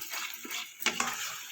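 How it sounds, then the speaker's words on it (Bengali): Ground spices with Kashmiri chili powder being stirred and sautéed in a pan for a jackfruit-and-prawn curry: a soft, quiet sizzle with faint scraping of a spoon and a couple of brief clinks. "এবার ভালো করে এটাকে কষিয়ে নেব"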